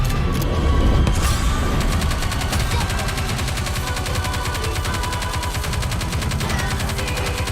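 Rapid sustained gunfire from the shooter game Nikke, dense automatic bursts running continuously and loudly throughout, with a brief voice line near the start.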